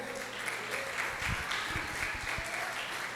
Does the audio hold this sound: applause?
yes